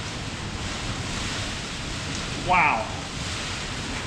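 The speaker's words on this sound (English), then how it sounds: "the rain and the wind picked up just as I was going out to do this" Wind and rain roar in a steady, dense wash outdoors on a farm during coastal flooding, loud and unbroken, with a brief exclamation from a person partway through.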